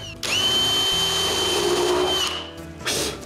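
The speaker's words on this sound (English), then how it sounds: "I begin by drilling some holes to hold the back in place." A power drill bores holes into a wooden oval light box, running loud and steady for about two seconds, then winding down into a short pause before briefly spinning up again.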